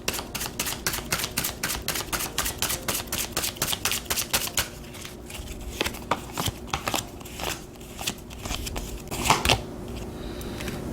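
Tarot cards being shuffled at close range, a rapid run of crisp riffling flicks for the first few seconds, then softer, sparser card slides and taps.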